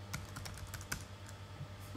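Computer keyboard keys are tapped in a quick, irregular run of soft clicks close by, over a low background hum, with no speech.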